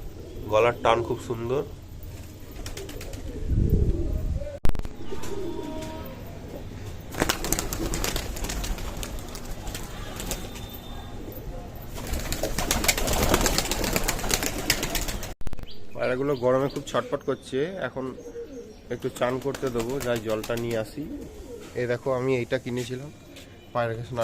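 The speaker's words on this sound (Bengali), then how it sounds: "এই দেখো এটা আমার একটা লাল লটন পায়রা" Pet Lotan pigeons coo and flap their wings nearby while a person talks over much of it, and the cooing stands out more clearly in the quieter final stretch.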